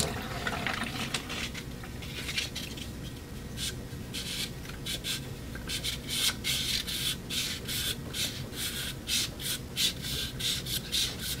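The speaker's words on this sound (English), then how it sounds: "just keep it wet and keep sanding with it" Steady wet rubbing and scraping of sandpaper in short repeated strokes, close up, with a slight watery hiss and no talking.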